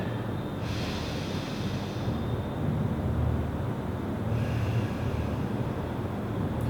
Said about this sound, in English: spend time breathing through your nose, deep breaths in, long deep breaths in, and deep breaths out